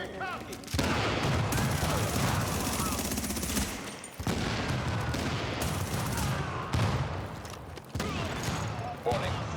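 Video-game gunfire in dense automatic bursts, loud and continuous, stopping sharply a few times before starting again. A voice talks over parts of it.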